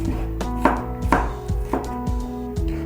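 Kitchen knife chopping an onion on a cutting board in a chef's demonstration, a steady run of sharp, close taps roughly every half second with no voices.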